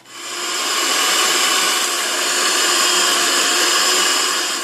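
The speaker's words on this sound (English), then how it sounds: "I'm just going to use a hand mixer." Electric hand mixer beating sweetener, egg and vanilla in a bowl, a loud steady whirring motor drone running continuously and close up, with no talk.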